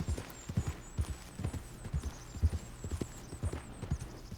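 Horse hooves clip-clop at a steady, even walking rhythm in a Red Dead Redemption 2 game world, close and moderately loud over a soft low hum, with no talking.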